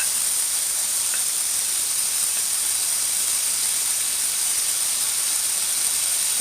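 Garlic sizzling in a hot pan for mabo tofu, a steady, even hiss of frying that stays constant and fairly loud throughout, with no talking.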